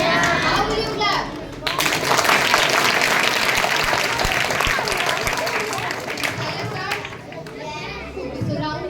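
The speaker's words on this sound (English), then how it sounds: "you have to encourage them by clapping on each and every correct answer" Children clapping in a classroom quiz, a loud burst of sustained applause mixed with excited kids' voices and chatter that swells and then fades.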